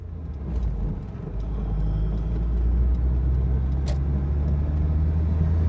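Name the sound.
1985 Alfa Romeo car driving onto the freeway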